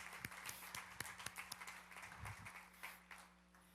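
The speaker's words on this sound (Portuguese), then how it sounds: "E tem ali uma salva de palmas para o pastor, gente." A church congregation claps for the pastor with scattered, distinct handclaps that come in an uneven rhythm. A few hands sound close, some sharper than others, over a low steady hum and with no voices.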